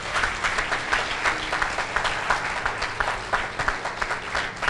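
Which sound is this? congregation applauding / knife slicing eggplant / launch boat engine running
congregation applauding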